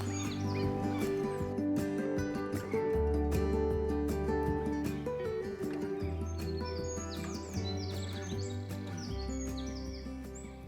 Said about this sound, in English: This place is just packed with birds.